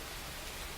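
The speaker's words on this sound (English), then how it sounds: "It's always raining here." Steady rain falls outside a coffee shop, a dense, even hiss of drops with no voices, filling the whole short moment at a constant level.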